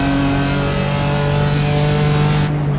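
A racing-simulator BMW M4 on the Nurburgring holds a loud, buzzing engine note that shifts slightly in pitch, then drops away sharply as the driver lifts off for braking.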